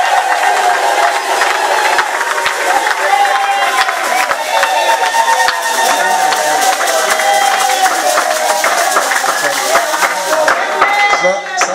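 A ceremony audience in a hall claps and cheers steadily, a dense continuous wash of applause with voices mixed in, loud and sustained throughout.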